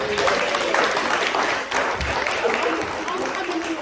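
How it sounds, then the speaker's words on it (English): Steady, fairly loud applause from an audience at a health inequalities network event, many hands clapping continuously, with some murmuring voices mixed in. "Can we give a round of applause?"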